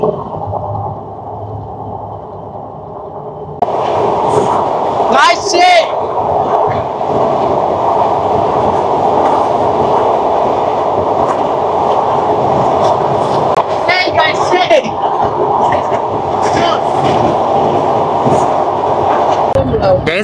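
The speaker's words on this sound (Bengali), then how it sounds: "দেখেন কি সুন্দর রেল একটা টার্নিং নিচ্ছে, ও যে দূরে ইঞ্জিনটা" Rupushi Bangla Express rolling along the rails near the Padma Bridge line, a loud sustained rumble and rattle from inside the moving train with occasional sharp metallic squeals, continuing steadily for twenty seconds.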